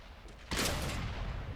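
Tank gunfire and artillery in a tank video game featuring the Pz. S35: one sudden loud blast bursts out after a moment of quiet, then trails off into a rumbling, noisy decay.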